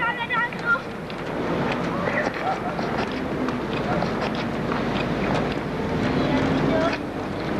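A boat pushes through rough, turbulent water, with a steady rushing wash and wind buffeting the microphone, while people talk and call out over the churning noise.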